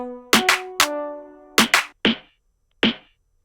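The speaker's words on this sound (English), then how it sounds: "this is a stock Logic snare" A sharp stock Logic Pro snare drum sample repeats in short, spaced strikes, some with a tonal ring, each decaying quickly into silence.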